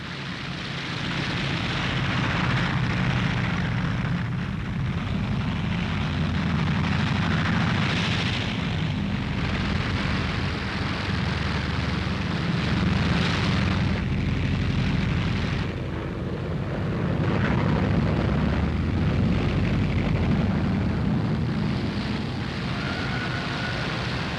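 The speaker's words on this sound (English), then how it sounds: "As the signal is given for the first wave to take off, the aircraft lumber down the runway." A World War II aircraft takes off down a runway at the Battle of Crete, its engine a steady, loud, heavy roar that fills the whole stretch and swells slightly near the end.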